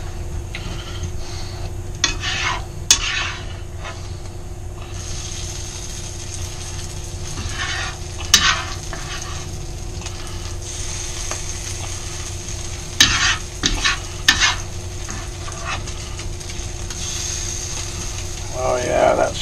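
Onions sizzle steadily in a hot pan alongside sirloin meat, with sharp scraping bursts from a spatula stirring them at irregular intervals, close and fairly loud throughout.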